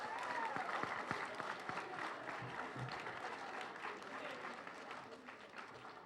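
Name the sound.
audience round of applause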